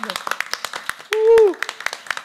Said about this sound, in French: Merci de bien applaudir tout le monde.